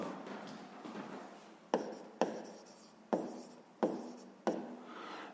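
Pen writing on paper while working a sixth-grade math exercise on cube volume, with close, light scratching strokes and several sharper taps as the pen lands, heard alone in a quiet room.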